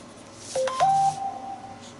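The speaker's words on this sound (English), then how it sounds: "My phone is just a ping-ponging over there, isn't it?" A phone sounds a short run of electronic notification pings, a couple of quick rising tones followed by a sustained beep, clear and moderately loud in a quiet room.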